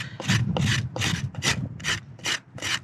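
A rasp is drawn across a horse's hoof to level it during trimming: seven rough, scraping strokes in a steady back-and-forth rhythm, loud and close, with no talking.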